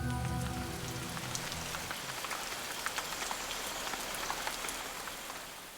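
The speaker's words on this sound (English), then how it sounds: "Mazuala's rainforests lie in one of the world's highest rainfall areas" Steady rain pours through a Madagascar rainforest in the Masoala area, a dense, even hiss with scattered sharp drops pattering close on leaves, heard alone and unbroken throughout.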